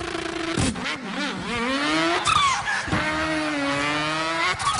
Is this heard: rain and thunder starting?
no